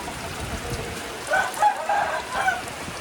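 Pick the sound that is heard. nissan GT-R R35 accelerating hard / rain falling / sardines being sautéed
rain falling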